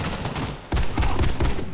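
Rapid bursts of automatic gunfire crackle in Warface, a dense fusillade of sharp shots with a brief lull before another volley, loud and close.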